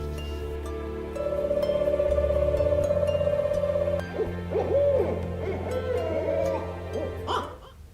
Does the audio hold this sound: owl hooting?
yes